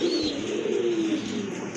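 A large pair of Lahori pigeons coos in one loud, close, drawn-out throaty call.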